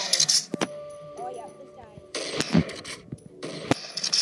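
Gunshots in the mobile game Pixel Gun, a few sharp isolated cracks separated by quiet gaps, alongside clicky mechanical sounds and a voice speaking between shots.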